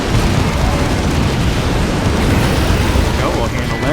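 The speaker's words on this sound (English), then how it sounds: "Let's see if we can just pop a frag out there." A frag grenade goes off in the real-time strategy game Dawn of War 2, a loud rumbling blast that fills the whole moment and rolls on with debris and battle noise.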